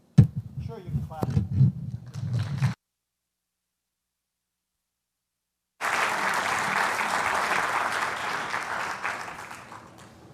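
A congregation applauds. Speech is heard first, then a short silence, then a dense burst of clapping that fills the rest of the stretch.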